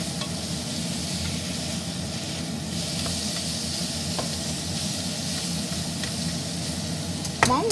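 Chicken meat is stir-fried in a pan for a chicken and water spinach dish, giving a steady, moderately loud sizzle with faint stirring scrapes throughout and a sharper clatter near the end.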